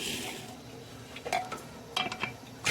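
Kitchen dishes and pots clink and clatter in a few short, sharp bursts in a home kitchen, close by against a quiet background.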